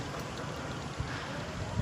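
Steady rushing wind with soft low buffeting thumps against the microphone, fairly quiet and continuous throughout.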